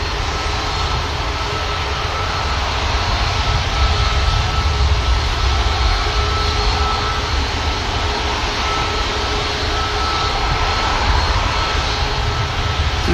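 Loud, steady roar of aircraft engines at Manchester Airport, a dense continuous rumble with a faint tonal whine on top, holding level throughout with no voices.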